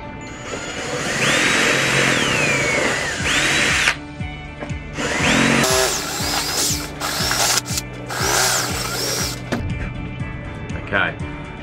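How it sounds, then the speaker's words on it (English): Power drill whirring in repeated bursts, pitch rising and falling as it bites into a metal engine mount on a model aircraft, with brief pauses and clicking between runs. "drill out the holes on the engine mount to fit the 3mm bolts."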